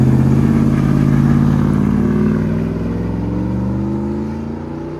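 A 2016 Ram 2500 HD pickup with a 6.4L HEMI V8 and Vibrant resonator exhaust rumbles loudly and steadily at close range, its deep burbling note easing slightly partway through, with no talk over it.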